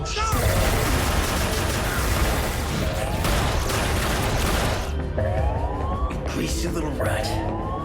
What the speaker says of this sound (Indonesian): Tiba-tiba pasukan musuh datang dan kontak senjata pun terjadi.